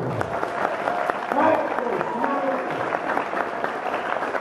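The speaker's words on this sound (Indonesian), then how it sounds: "Tepuk tangan." Audience applause at a religious talk, moderate steady clapping from a crowd with a speaking voice running over it.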